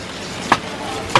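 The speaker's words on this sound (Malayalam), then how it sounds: "ഒരു മരത്തിന്റെ തൊണ്ട് ഇടിക്കുന്നു" Soaked tree husk pounded to powder for gold refining: two separate heavy, dull thuds land about half a second apart over a steady low background.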